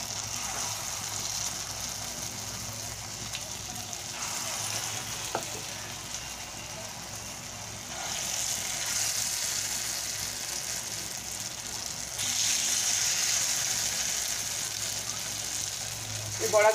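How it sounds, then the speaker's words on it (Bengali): Lentil fritters (bora) fry in hot oil, a close, steady sizzling hiss that swells louder in waves as more batter goes into the pan. "বাদবাকি বড়াগুলোও ভেজে নেব।"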